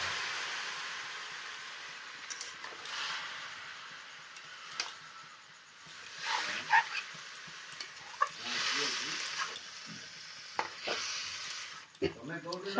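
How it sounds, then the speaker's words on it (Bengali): Leafy greens and tomato being stirred in a frying pan, with a steady sizzle and repeated scraping and clattering strokes of the spoon, a few louder clacks toward the end. "শাকটাকে ভালোভাবে নাড়িয়ে নেবো।"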